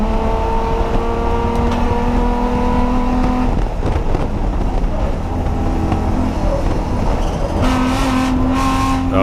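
A BMW E30 race car and a Honda race car battle in a three-hour enduro. Their engines drone loudly and steadily at a distance with shifting tones and the odd passing surge, and faint voices sit underneath.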